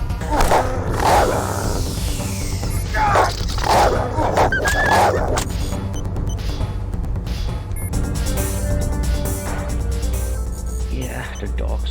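A guard dog in a stealth video game barks and growls in short bursts over the first few seconds, then gives way to steady game ambience and noise.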